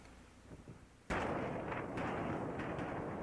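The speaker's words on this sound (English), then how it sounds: "A cameraman stationed a safe distance away captured the moment of the blast." A factory explosion goes off after a quiet start with faint low thumps, hitting with a sudden, sharp, loud blast that gives way to a sustained roaring rumble and scattered crackling bursts as it rolls on.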